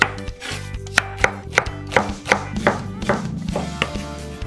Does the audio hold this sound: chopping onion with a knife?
yes